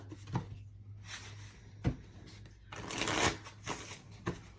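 A deck of cards is shuffled in several quick riffling bursts, with short pauses and soft handling noises between them.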